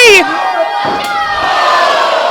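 A wrestling crowd at a Swan Dive show roars loudly, a dense wall of cheering and yelling that swells after a sharp opening shout and holds strong throughout.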